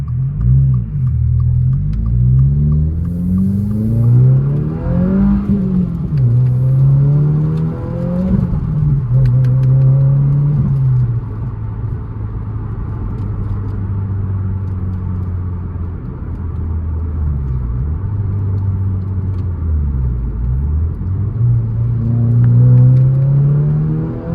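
A 2023 Subaru WRX VB with a Remark axle-back exhaust and the muffler deleted accelerates through the gears, its boxer engine droning up in pitch, dropping at each shift, then climbing again, loud and close.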